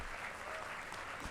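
Brief, steady applause rises from a university convocation audience honouring graduating students, a soft, dense wash of clapping heard from a distance with no one speaking.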